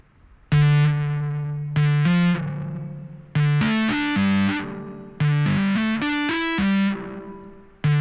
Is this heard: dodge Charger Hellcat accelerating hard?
no